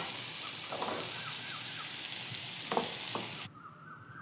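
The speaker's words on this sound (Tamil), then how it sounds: "பெரிய வெங்காயம் வந்து வெட்டி வச்சுருக்கேன் பல்லாரி, அதையும் போட்டு நல்லா வதக்கிடுறேன்." Chopped large onions sautéing in a pan for a prawn dish, a soft continuous sizzle with occasional stirring scrapes before the sound cuts down near the end.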